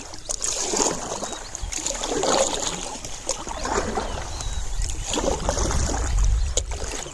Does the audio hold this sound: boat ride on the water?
yes